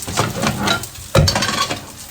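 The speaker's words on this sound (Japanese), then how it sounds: "鍋肌からごま油を垂らします" Sesame oil sizzling as it is poured down the side of a hot pan cooking shirasu and shiso for a fluffy tofu-and-egg bake: a soft crackling fry with light scraping, then a sudden louder hiss as the oil hits the metal.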